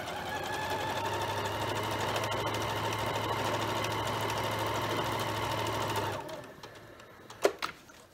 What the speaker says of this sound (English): I'm going to do a 1/4 inch stitch stitching line away from that edging